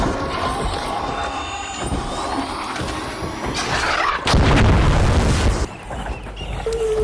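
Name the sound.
Deadline mine exploding on Bombardier, Arc Raiders video game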